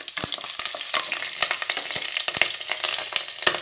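Green chillies with cinnamon, cloves, cardamom and bay leaf sizzle and crackle steadily in hot oil inside a pressure cooker on the stove, with frequent sharp pops over a continuous bright hiss and no voices.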